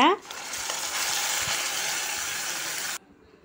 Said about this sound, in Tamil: ரெண்டு காய்ந்த மிளகாய் கருவேப்பிலை போட்டு தாளித்து எடுக்கணுங்க